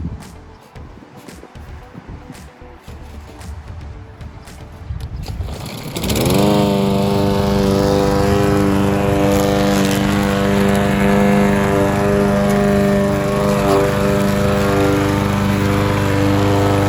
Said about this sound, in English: Let's try to mow in between now.